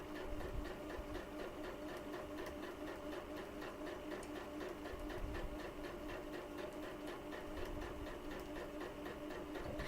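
Sewing machine stitching a seam, a steady rapid mechanical chatter running throughout at an even, moderate level, with no speech over it.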